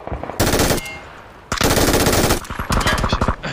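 Rapid automatic gunfire in a shooting video game, three loud sustained bursts separated by short pauses.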